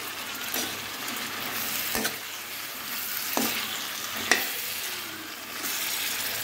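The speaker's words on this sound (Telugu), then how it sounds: "బాగా కలుపుకోవాలి." Eggplant pieces with salt being stirred in a frying pan, a soft steady sizzle of frying punctuated by a few sharp scraping clicks of the spoon against the pan, with no talking.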